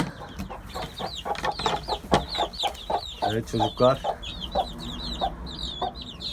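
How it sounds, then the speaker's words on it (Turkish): Chicks and hens cluck and chirp close by in a busy, uneven chatter, with a few brief calls rising over the flock. "Civcivler de şurada."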